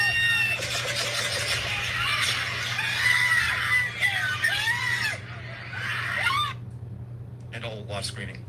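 Shrill screaming on a played-back video recording, rising and falling wails over a steady low hum, with bird-like squawks, stopping abruptly near the end before a few fainter bursts.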